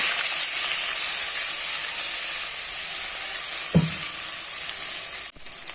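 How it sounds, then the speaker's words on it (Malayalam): Jackfruit fries in ghee in a pan for jackfruit payasam, giving a loud, steady, close sizzle with one brief knock of the stirring spoon partway through, then a quick drop near the end. "നെയ്ക്കകത്തിട്ട് ഒന്ന് വരട്ടിയെടുക്കാം"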